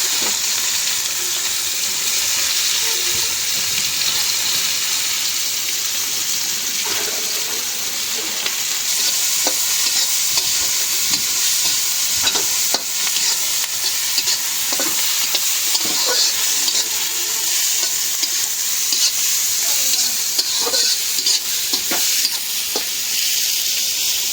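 Onions and cumin seeds frying in reused fish-frying oil, a steady loud sizzle and hiss with occasional stirring scrapes and pops running throughout, no talking.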